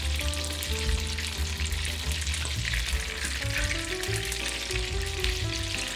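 Prawns koliwada deep fry in a pot of oil, giving a loud, steady, crackling sizzle that carries on without a break, close up and with no talking.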